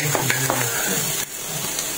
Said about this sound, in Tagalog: Umpisahan na natin ang paggisa sa bawang, sibuyas, at luya.